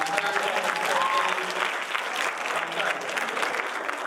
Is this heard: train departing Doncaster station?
no